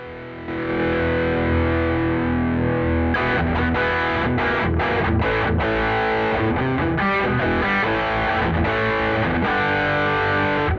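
An electric guitar played through a Two Notes Torpedo Studio on the Vintage 3 preset of classic Fender combos rings out: sustained chords at first, then choppy, rhythmic distorted strumming with sharp stops, loud and alone.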